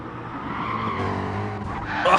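An Audi TT race car in the GT Sport video game skids with squealing tires under a sustained engine drone, ending in a brief harder impact-like burst.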